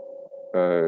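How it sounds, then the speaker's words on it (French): A mobile phone rings during an online HR software webinar, a tonal electronic ringtone starting abruptly midway and continuing loud and steady after a quieter steady tone. "c'est mon téléphone qui sonne, ça m'a un peu perturbé"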